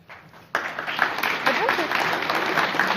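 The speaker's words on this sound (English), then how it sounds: "Yes, they're clapping for you." An audience claps at a guide dog graduation, broad steady applause starting abruptly and continuing close and fairly loud, with voices mixed in underneath.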